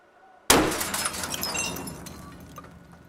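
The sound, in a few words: ping of shrapnel from a shaped charge explosion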